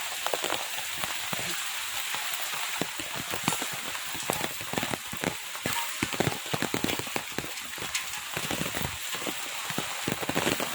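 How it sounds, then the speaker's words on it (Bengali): Steady rain pours down on sacks of sponge gourds left outdoors during days of unbroken rain, a dense, close pattering with many sharp drop hits and no voices. "এইখানে বৃষ্টিতে সব কিছু ভিজে যাচ্ছে"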